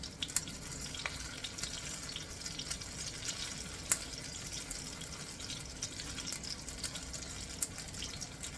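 Tap water runs steadily into a kitchen sink for hand washing, a continuous close hiss and splatter with a few small clinks, no talking.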